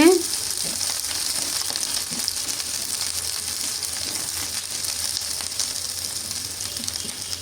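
Onions fry in a pan on the stove for a Bengali cabbage dish with new potatoes and chicken, giving a steady, even sizzle that holds at moderate level throughout with no talk.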